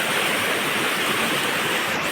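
Rushing stream water at a crab-catching spot with bamboo traps, a steady loud broadband wash that fills the whole clip with no pauses and no voices.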